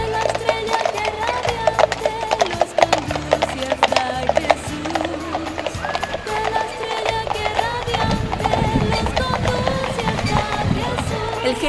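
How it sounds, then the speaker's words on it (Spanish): Horses ridden by the Three Kings clip-clop steadily across the paved Plaza Mayor of Trujillo at a Bajada de Reyes street procession, their rhythmic hooves mixed with a crowd, music and talking. "Previamente, Baltasar, Gaspar y Melchor llegaron a caballo"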